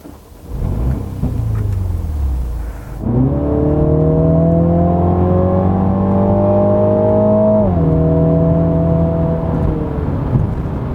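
A Mini Clubman John Cooper Works engine revs up and accelerates hard, its loud, rising roar climbing steadily before easing off, with no voices.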